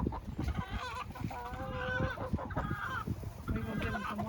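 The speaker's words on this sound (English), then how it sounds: "Look at them. Look at the chicken." A flock of backyard chickens clucks and squawks in a garden, overlapping calls from several birds close by with rustling and a brief voice in the background.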